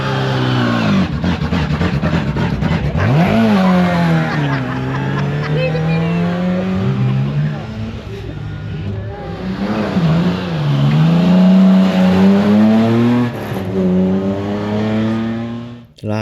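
An Austin 7 Special racing car climbs the Shelsley Walsh hill course at a classic event, its small engine revving hard through several rising gear changes, loud and close, then pulling away and fading, with a commentator speaking over it.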